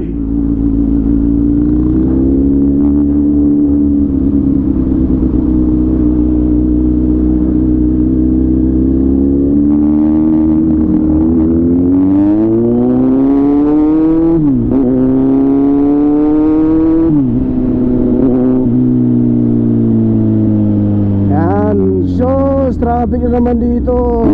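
A Kawasaki Z900 motorcycle rides through traffic. Its engine note rises and falls through several rev changes and gear shifts, loud and close, with other traffic audible around it.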